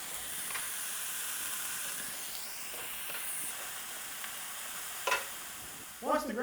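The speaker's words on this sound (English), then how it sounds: "we're going to add this to the ground beef when it's about 2/3 of the way cooked. And we'll stir it into the pan" Chopped vegetables stirred into ground beef frying in a pan, a steady soft sizzle and hiss with occasional scraping clicks, and a louder clatter of stirring near the end.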